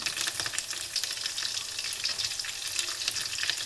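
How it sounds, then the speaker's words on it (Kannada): Ridge gourd curry frying in hot oil, a loud, dense, continuous crackling sizzle that stays close and steady throughout. "ಸೊ ನೋಡಿ ಎಣ್ಣೆಯಲ್ಲಿ ಚೆನ್ನಾಗಿ ಫ್ರೈ ಆಗ್ತಾ ಇದೆ"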